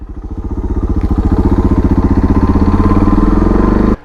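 A Honda CRF 125 F dirt bike engine runs loud and close, a rapid pulsing thump that rises steadily in pace and pitch as the throttle opens, then cuts off abruptly near the end.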